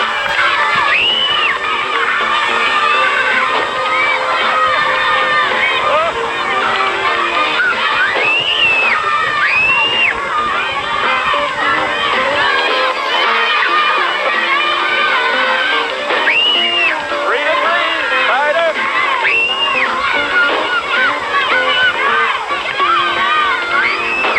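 Crowd of kids cheering and shouting excitedly during a team balloon-popping race at a game show event, loud and continuous with overlapping young voices throughout.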